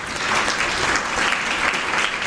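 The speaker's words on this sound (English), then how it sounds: "I request that we give a round of applause." Audience applause at a women's annual dialogue event, a dense, steady wash of clapping from a full room, fairly loud and close throughout the brief moment.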